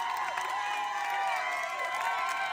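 Outside an Apple Store, a crowd cheers and applauds the first buyer walking out with an Apple Vision Pro, with a continuous wash of whooping voices and clapping heard at a moderate distance.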